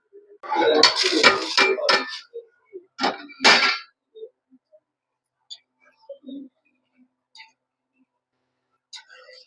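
A metal lid is set onto a pot of jackfruit seed and brinjal curry, giving a few sharp clangs and clinks near the start, then faint scattered kitchen clicks in near silence.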